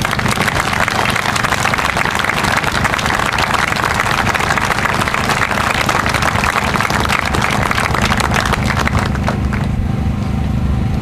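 A large crowd gives a sustained round of applause for ship crew members at an outdoor naval base farewell ceremony for the cruiser USS Cowpens, a loud, dense wash of clapping over a low steady hum.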